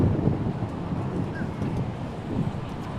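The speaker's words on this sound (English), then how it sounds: "It's windy. This is windy" Strong wind buffets the microphone aboard a 2022 MasterCraft Pro boat in Florida, a steady loud roar with low rumbling gusts throughout and no voices.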